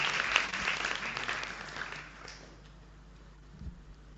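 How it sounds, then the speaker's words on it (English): High school debate audience giving a round of applause for the lead judge, a dense rain-like patter for about two seconds that quickly dies away into quiet room noise. "please, a round of applause for him."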